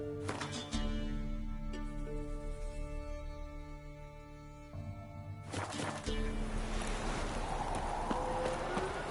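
Horse hooves clip-clopping in the video game The Witcher 3: Wild Hunt, a steady walking rhythm of close hoofbeats over a tonal in-game music bed, continuing through to the end.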